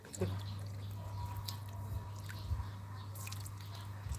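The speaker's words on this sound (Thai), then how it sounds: "เสียงปั๊มน้ำนะคะ เสียงปั๊มน้ำ" A water pump runs at a home with ornamental plants, giving a faint, steady low hum that persists throughout, with soft irregular squishy and dripping clicks scattered over it.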